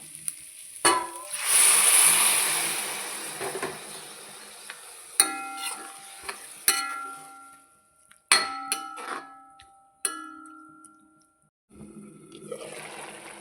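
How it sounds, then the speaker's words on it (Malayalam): Hot water poured into a pan of cooking mushroom curry, a burst of loud sizzling and frying hiss followed by scattered clinks and stirring sounds with quiet gaps between. "ഇതിലേക്ക് നമുക്ക് ലേശം ചൂടുവെള്ളം ഒഴിച്ചു കൊടുക്കാം."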